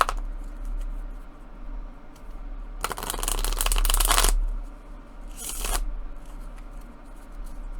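A smooth Halloween tarot deck being shuffled in two bursts of riffling and sliding, a longer one then a shorter one, close up with quiet pauses between.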